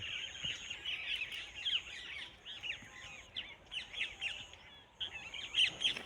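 Busy, high-pitched bird chirping from a flock of parrots on a farm, continuous and overlapping, moderately close with no talking.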